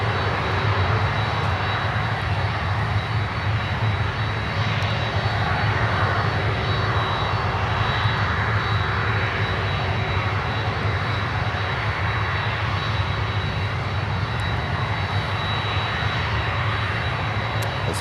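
Frontier Airlines Airbus A321neo jet landing on runway 12 in Miami, a steady loud broadband engine roar that holds constant throughout with no voices.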